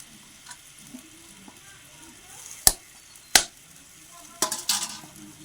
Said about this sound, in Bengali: ভাজা আলুগুলো দিয়ে দিচ্ছি